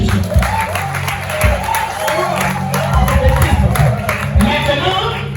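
Church congregation at a Beninese deliverance service cheers and acclaims loudly, a dense sustained roar of voices with clapping, whoops and shouts throughout, all at close range.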